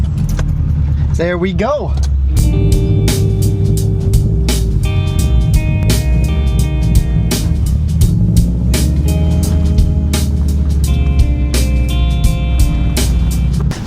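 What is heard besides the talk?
Honda Civic engine revving to get out of wet grass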